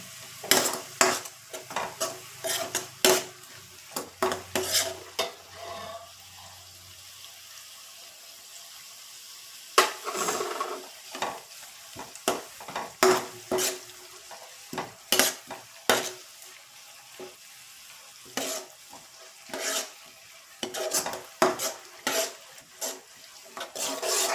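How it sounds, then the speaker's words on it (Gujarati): Onions browning in a pan with garlic, chili and ginger paste are stirred in repeated sharp utensil scrapes against the pan, close and steady, over a soft sizzle with short pauses. "ડુંગળી જો થવા થોડી આવે બ્રાઉન એટલે આપણે તેમાં લસણ મરચાં અને આદું એ ત્રણની એક પેસ્ટ બનાવી છે એ એડ કરીશું"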